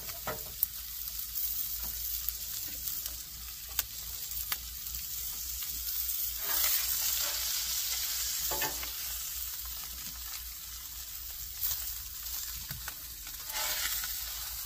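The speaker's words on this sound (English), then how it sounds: "We'll go ahead and get ready to baste this a little bit with some butter." A steak sizzles steadily in a hot pan while being basted with butter, a continuous crackling fry with occasional louder spatters, close and without talk.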